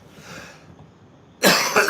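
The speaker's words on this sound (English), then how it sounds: "vaping makes me cough a lot." A faint breathy sound gives way to a sudden loud cough burst near the end, harsh and close, with no speech.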